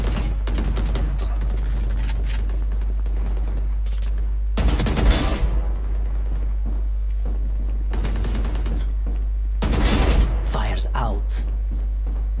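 Gunfire from the video game Valorant comes in two or three short, loud bursts of rapid shots, with a steady low hum underneath and a voice speaking between them.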